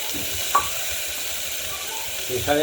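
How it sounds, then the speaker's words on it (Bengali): Cumin, black cumin and bay leaf sizzling in hot oil, a steady frying hiss with a couple of brief clinks of a utensil stirring in the pan. "জিরে আর কালো জিরে আর তেজপাতা দিয়ে সম্বাদ দিয়েছি"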